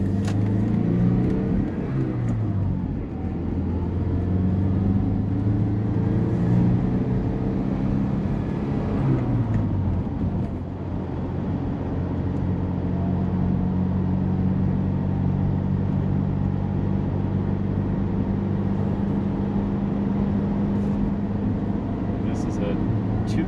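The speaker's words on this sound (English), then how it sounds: "this is the Chrysler Conquest TSi" A 2.6-liter four-cylinder turbocharged Chrysler Conquest TSi drives with a steady low engine drone and rising and falling pitch as it shifts gears. Someone talks over the engine throughout.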